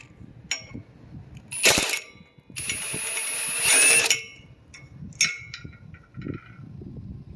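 Metal clinks and ratcheting clicks from a wrench unscrewing the 9/16 bolts that hold a trailer jack to its coupler, coming in short bursts with a couple of longer sustained grinding stretches, close and fairly loud.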